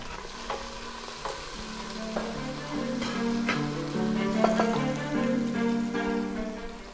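Chopped onion and bell pepper sizzle in a hot pan over low heat, a steady crackling fry with occasional spatula scrapes and a faint musical tone underneath.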